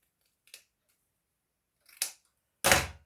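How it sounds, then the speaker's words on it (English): Three short, crisp snips separated by pauses, the last one louder and fuller, like scissors closing through paper close by. "Here I am now using scissors"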